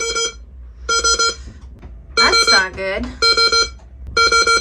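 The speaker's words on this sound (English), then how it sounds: "the anchor alarm decided to go off" A boat's anchor alarm sounds during a first overnight stay at anchor, sending out repeated bursts of loud, high, even electronic beeps separated by short gaps, while a person talks over one stretch between the bursts.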